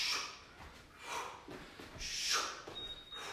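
Heavy exhaling during a HIIT core workout: several forceful, breathy puffs of air, rising and falling in a steady rhythm, fairly faint and close with no talk over them.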